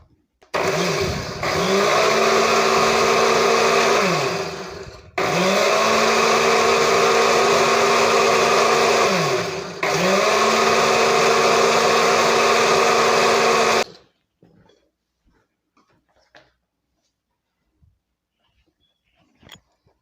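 Electric mixer grinder whirring through eggless cake batter in three bursts of about four seconds each with short pauses between, loud and steady with a dipping hum as each run starts and stops, then near silence.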